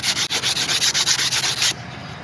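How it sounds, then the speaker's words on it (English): Sandpaper rubs back and forth over a carving chainsaw bar to smooth off burrs, a close, loud, rhythmic scratching of about a dozen quick strokes that stops abruptly, leaving quiet room tone. "I'm just going to take a little bit of sandpaper, nothing special"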